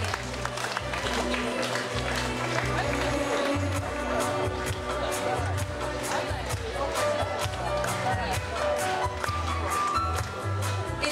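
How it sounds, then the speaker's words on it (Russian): Applause from a crowd at a district graduation celebration in a community culture hall, as school graduates come out onto the stage, continuous clapping layered over music and general crowd noise. "Встречаем их также дружными и дружными аплодисментами"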